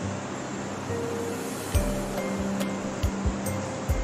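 Sea waves rolling onto Cox's Bazar Sea Beach, a constant loud surf wash with several sharp crashing thumps breaking through, no voices.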